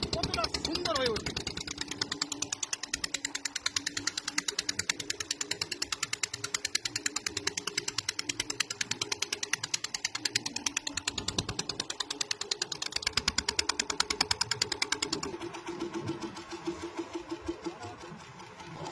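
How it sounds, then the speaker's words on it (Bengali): A fishing boat's engine chugs in a fast, even mechanical rhythm on the sea, loud and close for most of the time, then thins out toward the end as it is stopped. "ইঞ্জিন থামানো হচ্ছে।"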